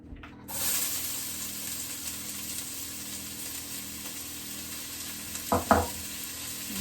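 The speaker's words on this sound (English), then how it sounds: "Once the oil in your casserole dish is nice and hot, we're going to add 2 seriously fine diced onions" Finely diced onions hit hot oil in a casserole dish and settle into a steady, even sizzle under a low kitchen hum, with a couple of brief louder clatters near the end.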